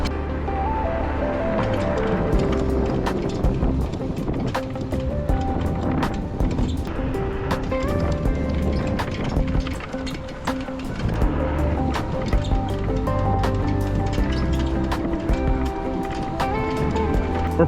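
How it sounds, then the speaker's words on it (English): An Otida X2 electric bike rides over grass, giving a steady, loud rolling rumble with rapid rattling clicks and knocks from the frame throughout. "This bike just floats over grass."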